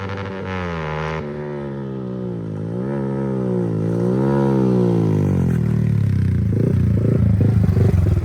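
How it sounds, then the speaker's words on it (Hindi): A Yamaha R15 V4 motorcycle with a loud aftermarket exhaust, idling close by and then blipped through several rising and falling revs, giving a droning, buzzy engine note that swells and ends in a rough, crackly burble. "तो देख लो कितना ज़्यादा लाउड हो गया है एग्जॉस्ट।"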